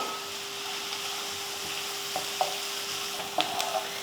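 Chopped garlic cloves, curry leaves and two green chilies sauté in hot oil for an egg bhurji masala, giving a steady, close sizzle with a few light scrapes and clicks of stirring toward the end, and no voices.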